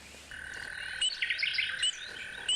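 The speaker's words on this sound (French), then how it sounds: "entouré d'une végétation luxuriante et peuplée d'oiseaux qui gazouillent" Birds chirp around a pond ringed with lush vegetation, giving a steady high trill with bright, quick tweets layered over it. The sound is moderately loud and clear, with no voices.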